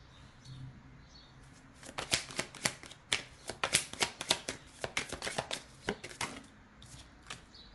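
Oracle cards are shuffled by hand nearby, starting after a quiet couple of seconds, then a rapid, irregular run of crisp riffling slaps and flutters continuing almost to the end.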